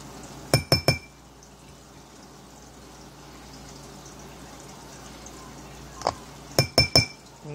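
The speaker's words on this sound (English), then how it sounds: "Let's use the big spoon here." A big spoon clinks against glass while scooping very fine fluorescent orange glitter, two quick bursts of three sharp metallic clinks each, near and distinct, over a quiet room hiss.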